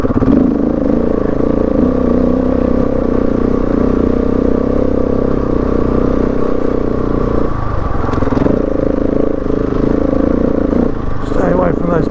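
A Husqvarna 701 Enduro motorcycle climbing a steep, rocky hill, its engine droning loud and close under throttle with shifts in pitch and brief dips as it works up the slope, scraping and clattering over rocks near the end.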